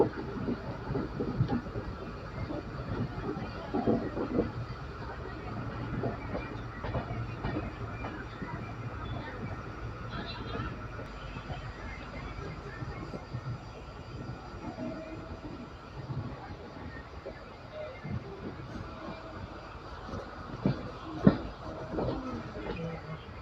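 Indian Railways weekly special train from Nanded to Visakhapatnam running toward Secunderabad, a steady rumble of rolling carriages heard from inside, with occasional clunks and brief louder knocks near the end.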